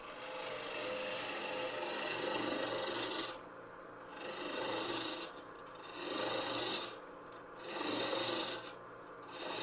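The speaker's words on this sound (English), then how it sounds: "use the spindle roughing gouge for that" A spindle roughing gouge cuts a spinning wooden blank for a mallet on a lathe, giving a loud steady rasping hiss in long passes broken by short pauses as the tool moves back and forth.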